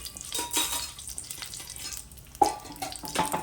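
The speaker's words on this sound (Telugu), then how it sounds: "ఇవన్నీ కొంచెం బాగా చిటపటమనేదాకా ఫ్రై చేసుకోవాలి." Mustard seeds, urad dal and fenugreek spluttering in hot oil as tempering for a bitter gourd tamarind curry, giving close, irregular crackling pops with a few sharper bursts and no talk.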